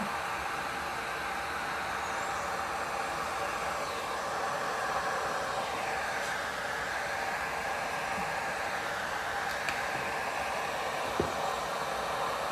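Steady, close air blowing from a dryer-like blower across wet ocean-style resin colors on a 12x24 canvas, a continuous whooshing hiss with no talk.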